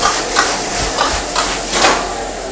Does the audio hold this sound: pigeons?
no